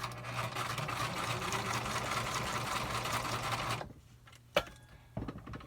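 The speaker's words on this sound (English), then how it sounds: "I'm going to do a straight stitch and then a zigzag stitch." Sewing machine stitching a journal card with white thread, a loud, steady rapid whirring clatter for nearly four seconds, then stopping, followed by a few small clicks and knocks.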